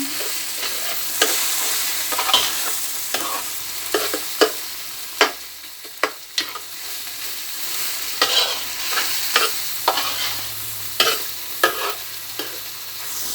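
A spoon stirs Bahamian dumpling soup in a pot with repeated scraping knocks against the sides in an irregular rhythm, close up, over a low simmer and no talk.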